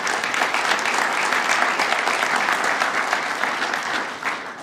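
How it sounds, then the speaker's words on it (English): Sustained applause from a civic audience at a State of the City address for a parks department official, dense and steady throughout before tapering slightly at the end. "Let's give him a round of applause."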